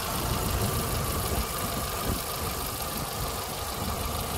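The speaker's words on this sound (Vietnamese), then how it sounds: "đây là tiếng động cơ đang hoạt động đây" A 2011 Kia Morning Sport with a 1.0-litre engine idles close by, a steady, smooth low hum with a faint even vibration running through the whole stretch without any talk.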